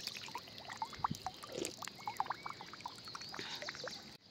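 Water runs from a drinking tap at a school in Uttarakhand, a faint trickle and splash with small gurgling bubbles and irregular drips, close and quiet, with no talking.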